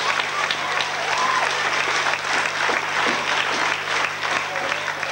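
A school audience in Auchel, France, applauds steadily for a dense, continuous stretch of clapping that holds an even level throughout, with no voices heard over it.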